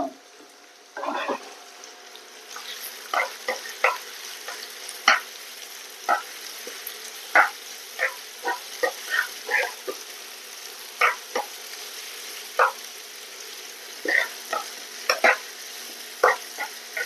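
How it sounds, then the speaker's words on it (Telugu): Carrots frying in a pan for capsicum curry, with a soft steady sizzle under repeated sharp spoon scrapes and taps at an uneven rhythm, close up. "క్యారెట్ని బాగా వేయించుకుంటాం."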